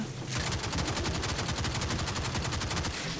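Rapid automatic gunfire from Warframe gameplay on a Corpus mission, a dense, fast-repeating burst that starts abruptly and continues steadily throughout.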